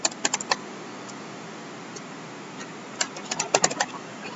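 Someone types the ipconfig release command on a computer keyboard: short bursts of quiet key clicks at the start and again near the end, with a near-silent pause between them and no speech.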